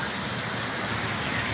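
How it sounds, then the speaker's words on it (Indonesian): Steady rain falls on an overcast afternoon in Sukabumi, Indonesia, as a dense, continuous wash of noise with no breaks and no voices. "Ini suasananya hujan terus,"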